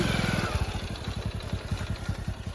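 A motorcycle engine idles nearby with a steady, rapid chugging rhythm that pulses evenly throughout.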